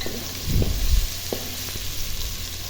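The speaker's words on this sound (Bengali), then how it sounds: "তো এই যে দেখুন আমি সব ভেজে নিতেছি ভালো করে পেস্টটা ব্রাউন করা করবো" A spice paste with crushed garlic fries in a pan, giving a steady soft sizzle with a few stirring scrapes and clinks near the start.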